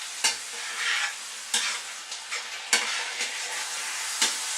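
Steady sizzling and crackling of Dolmio tomato and basil sauce frying in a hot pan, with a few sharper bursts as it spits, fairly close and continuous.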